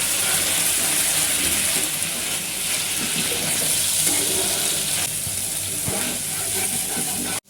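A paste of ginger, garlic, green chili and onion sizzles and fries in hot oil, a loud, steady crackling hiss with occasional stirring scrapes, cutting off abruptly at the end.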